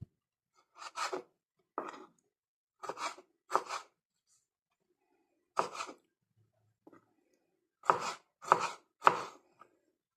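Knife finely dicing tomato on a cutting board, with close, crisp chops in uneven clusters and brief gaps between them, ending in a quick run of three or four strokes.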